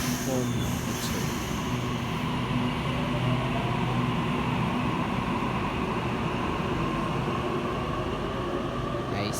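Sydney Trains service on the Epping–Chatswood rail link, departing Epping in an underground station: a loud continuous rumble and hum of the train pulling away, with steady motor tones throughout.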